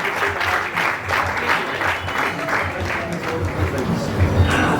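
Audience applause fills a religious gathering honoring a Jain monk's Ayambil Oli penance, steady sustained clapping from a large crowd with a rippling rhythm throughout, loud and continuous.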